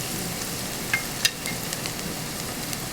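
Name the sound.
greens sauteing in a pan with garlic and cumin seed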